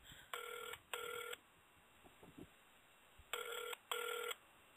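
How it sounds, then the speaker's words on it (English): A telephone at a Walmart store rings unanswered, giving two paired double-ring bursts, one near the start and one near the end, with a quiet gap of faint line noise between them. "We'll give Butthead a moment to reach the people over at Walmart that are not picking up their phone"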